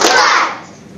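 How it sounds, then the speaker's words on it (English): A single splat sound effect made live during a music technology lesson: one loud, wet, noisy burst that fades over about half a second. "That was a better splat."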